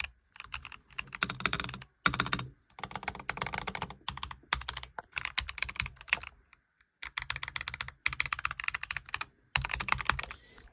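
Someone typing on a new wireless computer keyboard, with close, brisk bursts of clicky keystrokes broken by short pauses, continuing throughout.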